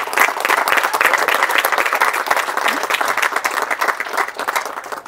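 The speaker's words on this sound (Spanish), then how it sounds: "Un fuerte aplauso, por favor." Guests at a civil wedding ceremony break into dense, enthusiastic applause, close and loud, with steady overlapping clapping throughout.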